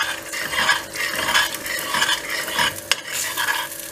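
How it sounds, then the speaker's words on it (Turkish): Egg whites frying in butter are stirred briskly in a pan, a busy close scraping and swishing over a low sizzle, with one sharp utensil tap near the end and no voices. "İlk başta beyazlığını şöyle karıştırıyoruz. Pişsinler."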